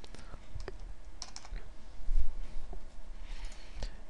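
Computer keyboard typing while code is copied and pasted, with scattered clicks and short bursts of keystrokes, fairly close and moderately quiet over a soft background hum.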